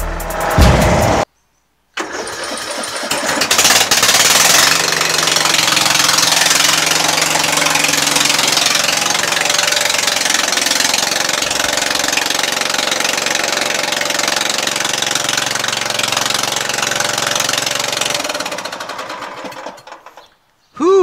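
A lawn tractor engine runs loudly and steadily for most of the stretch, starting after a brief silent gap and holding a dense, rough roar before cutting off near the end.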